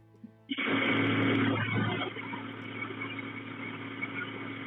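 A household air conditioner gives off a steady, loud broadband hum with a low drone, continuous and alone after a sudden start.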